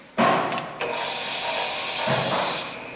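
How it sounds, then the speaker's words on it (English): Motor of a Bridgeport 2J vertical milling machine (1.5 horsepower, 9 by 42 inch table) driving its variable speed power feed. It starts abruptly, then settles into a loud, steady whirring hum with a high whine for about two seconds before cutting off. "It has a Bridgeport variable speed power feed."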